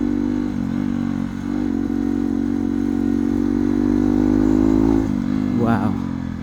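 A Hero XPulse motorcycle cruises on a highway, giving a steady engine drone with wind and road noise throughout. The engine note shifts briefly near the end.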